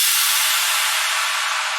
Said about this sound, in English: That is just a crash.